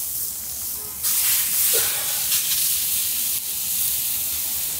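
A porterhouse steak sears in a very hot pan, giving a loud, close, continuous hiss that swells after about a second and holds steady with no talking.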